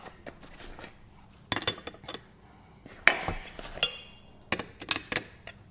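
Metal spanners clink and clatter in a boat workshop during a hydraulic steering install, a scatter of quiet, sharp knocks and rattles in uneven bursts as tools are shuffled about.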